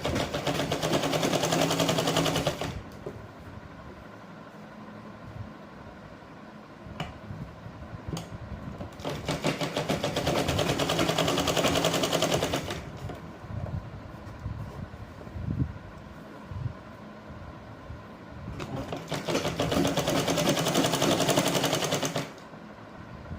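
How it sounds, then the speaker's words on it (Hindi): A sewing machine stitches cord piping onto a blouse neckline in three bursts of rapid mechanical rattling, each lasting a few seconds, separated by quieter pauses with handling of fabric. "ये मैंने मशीन का टांका लगा दिया, कोड पाइपिंग है ये"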